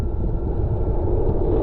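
Wind roars steadily across the microphone during a fast gravel bike ride through the Jura and Doubs with a strong tailwind pushing the rider, a loud, continuous low rush with no talking.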